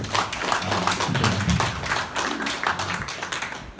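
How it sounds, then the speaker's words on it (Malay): Parents clapping at a school PTA annual general meeting in a hall, a sustained burst of crowd applause with some low rumble and scattered voices beneath. "Beri tepukan gemuruh kepada kita."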